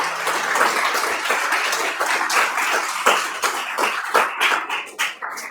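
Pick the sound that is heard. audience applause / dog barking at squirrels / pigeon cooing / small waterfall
audience applause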